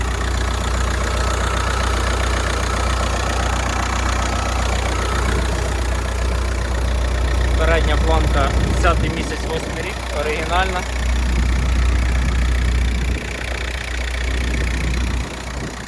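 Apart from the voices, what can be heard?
diesel car engine idling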